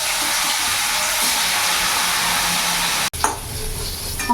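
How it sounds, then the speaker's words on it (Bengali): Pieces of silver carp fry in hot oil in a pan, a loud steady broadband sizzle and hiss that breaks off abruptly, then resumes with clattering stirring. "মাছগুলো আমি লাল লাল করে ভেজে নিয়েছি"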